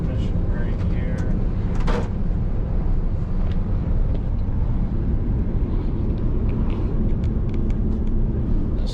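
A Prevost Liberty coach, eighteen years old, rolls down a significant, curvy hill on its transmission brake, giving a steady, loud low rumble of engine and road noise throughout, with brief talk from people inside.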